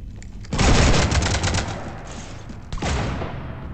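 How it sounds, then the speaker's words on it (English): Dense automatic gunfire tears into a ship in Mass Effect 3, a loud continuous fusillade that runs for about two seconds, dips briefly, then bursts back in just as hard. "You want to stop shooting up my ship?"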